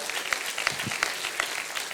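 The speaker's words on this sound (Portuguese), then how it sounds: "Dê uma salva de palmas." A church congregation applauding during a service, a steady wash of many hands clapping at moderate loudness, with faint voices mixed in.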